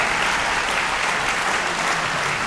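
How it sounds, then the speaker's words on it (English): Dense, continuous applause from a concert audience cheering young violin performers, a loud, even wash of many hands clapping with no pauses. "On les applaudit encore."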